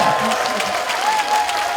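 A crowd at an outdoor Gurye expo stage gives dense, sustained applause for a team of top dancers. A voice carries briefly over the clapping.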